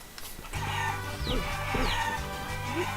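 Chickens cluck repeatedly in the video game Guacamelee, a few close, loud squawks and clucks over a steady low game background hum.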